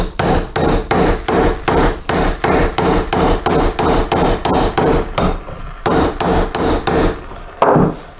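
Rapid, even hammer blows drive a mandrel to seat a push rod tube on a 1983 BMW R80ST motorcycle engine, sharp close metallic strikes in a steady rhythm with a brief pause before a final few hits.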